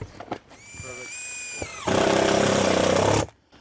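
DeWalt power drill whining steadily, then a louder, harsher burst of drilling into metal during a metal roof replacement, close and short.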